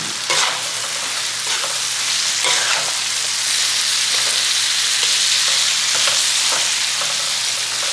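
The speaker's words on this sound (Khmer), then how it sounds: "យើងអាចចាក់ខ្ទឹមឲ្យត្រាប់ម្ទេសឲ្យយើងចូលបានហើយបងប្អូន" Loud, continuous sizzling of prahok stir-fried with pork, garlic and chili in a hot pan, with repeated stirring and scraping strokes throughout and no voices.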